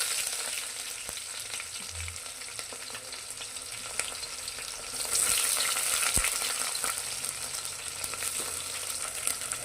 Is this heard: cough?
no